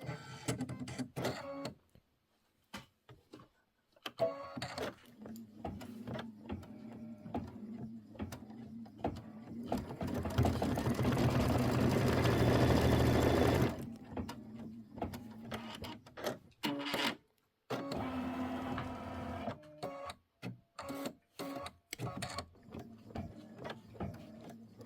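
An embroidery machine stitches heart tack-down lines for a mini quilt, a steady mechanical whir with rapid needle clatter broken by short pauses and stops, growing louder mid-clip, with no talking.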